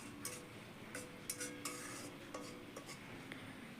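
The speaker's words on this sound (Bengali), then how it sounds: "তো টমেটোগুলোকে মশলার সাথে খুব ভালো করে মিশিয়ে নিচ্ছি।" Spoon scraping and tapping in a pan while tomatoes are mixed into spices for a homemade cauliflower, potato and fish curry, giving soft irregular metallic clinks and rubbing over a quiet kitchen background.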